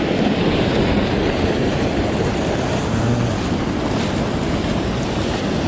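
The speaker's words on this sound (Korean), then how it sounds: "아 물소리 좋다" A river flowing where people fish for Korean aucha perch rushes in a constant, full hiss, with some wind noise mixed in, and no voices.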